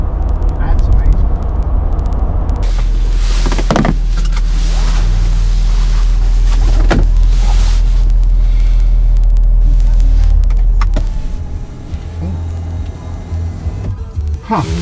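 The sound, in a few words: 2020 Ford F350 6.7 Power Stroke truck driving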